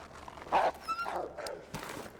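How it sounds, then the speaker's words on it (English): A wolf snarls in the survival video game The Long Dark, giving short growling bursts that rise and fall over a low ambient background. "There's a wolf on the left."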